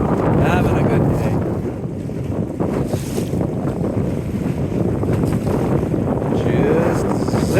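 Waves splash and slap around a small West Wight Potter 15 sailboat zipping along on a windy day, while steady wind buffets the microphone. The mix is loud and continuous, and a voice is partly buried in it.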